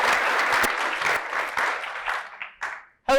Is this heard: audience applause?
yes